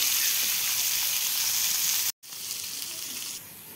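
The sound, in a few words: figs frying in oil with cumin, salt and turmeric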